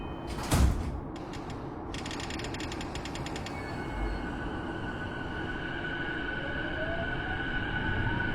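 Train doors close at platform 2 on the JR Negishi Line in the BVE5 train simulator game: a sharp clunk, a burst of rapid chime-like beeps, then a steady electric motor whine that rises as the train pulls away.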